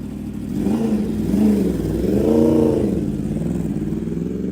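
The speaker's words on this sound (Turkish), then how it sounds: "Ters yönden gelen araçlara aldırış etmeyen motosiklet sürücüleri yüksek hız yaparak gösteri yapıyor." Motorcycles speeding on a road against oncoming traffic pass with rising and falling engine whine, the revving swelling and fading over several seconds at moderate loudness.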